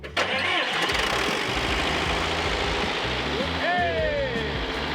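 Cummins 4BT diesel engine cranking and catching, then running loud and rough at close range with a heavy low rumble, while voices shout over it near the end.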